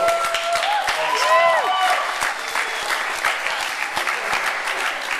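Crowd applause at a Relay for Life event, sustained dense clapping with scattered cheers and whoops rising over it, fairly loud and close.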